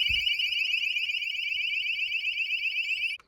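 A motion sensor alarm set off by a marten near a car sounds a loud, continuous electronic tone with a warbling pulse, steadily for about three seconds before cutting off abruptly.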